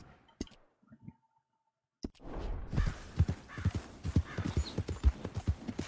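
White Arabian horse in Red Dead Redemption 2 clip-clopping at a steady walk, hoofbeats close and rhythmic after a couple of isolated clicks and a short quiet pause.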